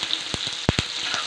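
Garlic sizzles in hot oil in a home kitchen pan, giving a brief, close hiss broken by a few sharp crackles and pops.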